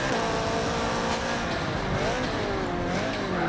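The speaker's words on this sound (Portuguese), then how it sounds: "Deixar o som do carro aí pra vocês curtirem aí." Subaru BRZ engine in the racing game Forza Motorsport on a fictional Rio de Janeiro circuit: a continuous loud engine drone that revs up and down with shifting pitch, filling the whole stretch without talk.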